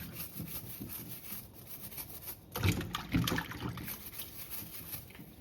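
Potatoes are scrubbed and washed under running water, a soft, steady splashing and rubbing with a louder burst of water midway, heard up close with no talking.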